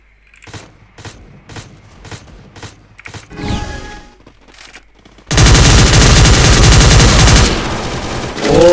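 Gunfire in the Free Fire video game: a few sharp single shots spaced out, then a sudden loud sustained burst of rapid automatic fire that fills the closing seconds.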